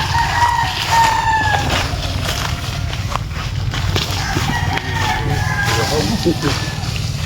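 Roosters crowing at a chicken farm beside rice being sun-dried: several drawn-out crows rise over a steady low rumble, with clucking and someone talking nearby.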